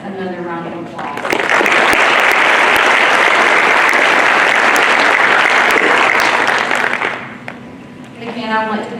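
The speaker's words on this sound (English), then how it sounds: "If we can just give all of these students another round of applause." Sustained applause for new National Honor Society and dance honor society inductees at an induction ceremony, loud, steady clapping from a seated crowd lasting about six seconds before tapering off.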